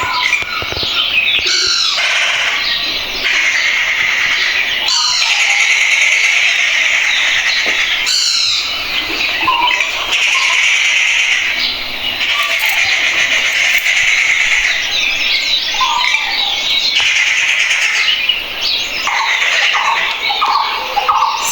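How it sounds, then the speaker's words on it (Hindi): Dense early-morning birdsong near Chandigarh, with many birds chirping, squawking and calling over one another continuously, loud and close, without any talk. "सुबह सुबह चिड़ियों की चहचहाट"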